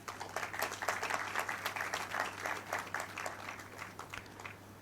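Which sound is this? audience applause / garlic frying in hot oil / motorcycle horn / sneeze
audience applause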